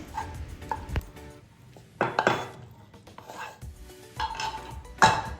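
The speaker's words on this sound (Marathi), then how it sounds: "ही मटकी एका बाउलमध्ये काढून घेऊयात" Cooked moth beans are moved from a pot into a bowl. Close, quiet spoon scrapes and a few distinct clinks against the metal come in irregular bursts, with no talking.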